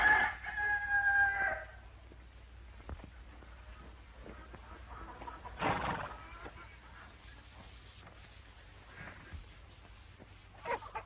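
A rooster crows loudly at the start, followed by a quieter stretch with a couple of brief distant calls against soft outdoor background noise.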